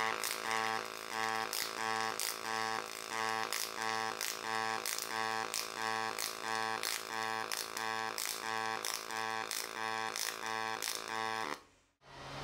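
A Yeswelder DP200 dual pulse MIG welder runs a bead on dirty scrap metal, giving a steady rhythmic buzzing crackle with regular pulsing beats, continuous and close, cutting off abruptly at the end.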